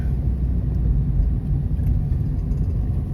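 A car travels along a road at night, a steady close low engine rumble and tire roar with continuous whirring road noise, no voices.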